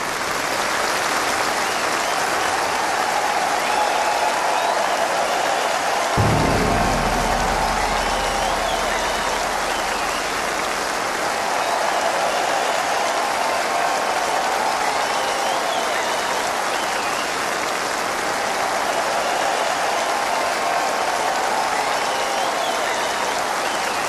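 Enormous audience applause for the orchestra at an outdoor concert in Maastricht, a sustained roar of clapping from a large crowd that stays loud and steady throughout, with a low thump early on.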